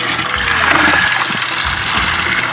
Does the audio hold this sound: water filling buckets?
yes